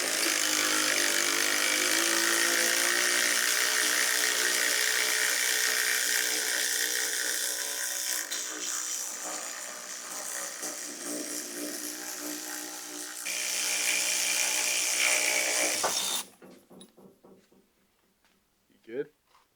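Power tool loosening bolts on the rear axle of a 2008 Ford Mustang, a loud continuous whir over about sixteen seconds with steady pitch and a shift in tone midway, stopping abruptly before a few faint clunks.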